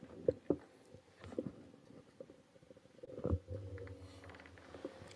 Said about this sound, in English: Alexa, play a fart sound.